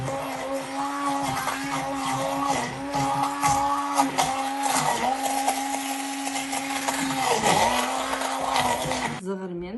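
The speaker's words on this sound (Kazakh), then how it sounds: "екеуін осы зығырмен күрішті қосып біз бірге блендерден өткізетін боламыз" Flax seeds and rice are ground together in a kitchen blender, a loud steady whirring motor with a grinding rattle, pitch dipping briefly as the load shifts before it switches off at the end.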